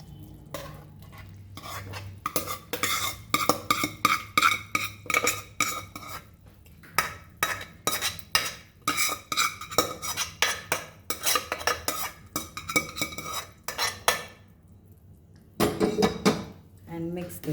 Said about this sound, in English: Now we'll add our khichdi to this.